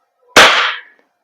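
Umarex Glock 45 Gen 5 VFC airsoft gas blowback pistol firing one loud, sharp crack with a brief gassy hiss tail, close and isolated.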